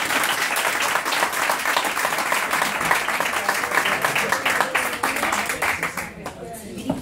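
An audience at a magazine presentation in Ruzafa, Valencia, gives loud, dense, sustained applause that carries on for about six seconds before tapering off near the end.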